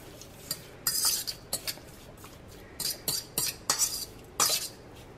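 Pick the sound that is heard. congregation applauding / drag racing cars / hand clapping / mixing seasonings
mixing seasonings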